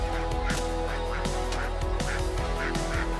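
Ducks move through a busy produce market, giving repeated honking quacks in an uneven rhythm over a steady background din.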